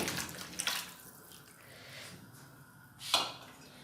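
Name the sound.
goat trotters (paye) dropped into pot of water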